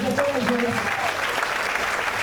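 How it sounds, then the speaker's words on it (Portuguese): Church congregation applauding together, a steady dense wash of clapping with a preacher's voice and murmuring over it. "Pode aplaudir o Senhor Jesus"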